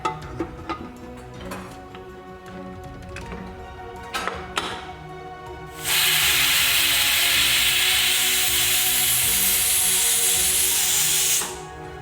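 A pressure cooker holding kangaroo meat and half a cup of water. First come light pot clatters, then a loud continuous whistle of escaping steam that lasts about five seconds before cutting off.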